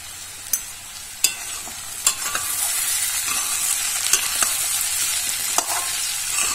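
A small snack frying with sesame seeds, a bright continuous hiss of hot oil with sharp intermittent ticks and pops from the pan, close-up and unaccompanied by speech.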